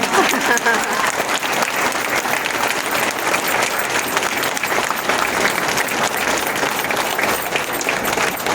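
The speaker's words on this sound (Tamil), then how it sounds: "சொக்கலிங்க பேச்சு பிடித்திருந்தால் கைத்தட்டுங்கள்." A hall audience at a World Heart Day event applauds after a heart-health talk, with dense, continuous clapping at an even level throughout and no speech over it.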